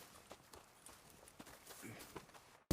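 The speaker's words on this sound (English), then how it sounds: "And a fine new horse." A horse's hooves clip-clop at a walking pace in Red Dead Redemption 2, soft, irregular thuds at moderate distance over faint ambience, cut off by a sudden loud burst at the end.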